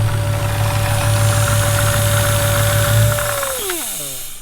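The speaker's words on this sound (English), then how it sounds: "that Supercharger does not sound happy whatsoever" A Dodge Hellcat engine with a failing supercharger runs loud and close with a rough, knocking drone and a steady whine that falls away as the engine winds down near the end, with no talk.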